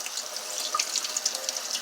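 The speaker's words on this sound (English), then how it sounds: "now I am going to kind of rinse the beans off" Tap water runs steadily over soaked beans in a colander, a continuous splashing rush with small patters and drips, fairly close and heard alone.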